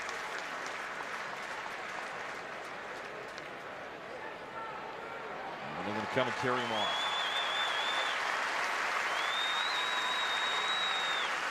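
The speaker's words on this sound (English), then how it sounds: "An ovation from the crowd here in Baton Rouge." A crowd at a college baseball game in Baton Rouge, Rice versus LSU, gives a sustained ovation of applause and cheering that swells and holds, with an announcer talking over it and whistles rising late.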